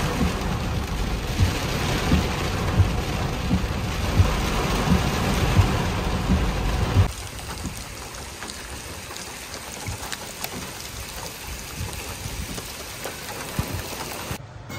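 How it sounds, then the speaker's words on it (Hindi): Very heavy rain pours steadily during a road trip in Karnataka, loud and dense for the first half, then easing to a softer, steady downpour; a low rumble suggests distant thunder. "बहुत तेज बारिश हो रही है"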